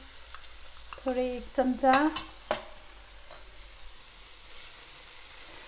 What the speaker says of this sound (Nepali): अब यसको पछि चाहिँ मैले चिली फ्लेक्स लगाइदिन्छु